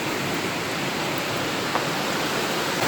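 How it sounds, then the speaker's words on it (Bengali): Heavy rain pours down steadily in a dense, even hiss, with gusting wind on a hot day, close and loud, with no talking. "মুষলধারায় বৃষ্টি হচ্ছে এখন"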